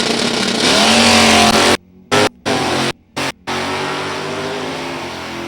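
Drag race launch at an NHRA Division 3 event at Gateway Motorsports Park: a 350 Camaro and a 351 Ford Mustang rev loudly nearby, then roar off the line, the engine noise cut by short gaps.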